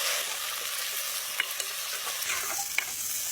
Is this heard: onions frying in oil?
yes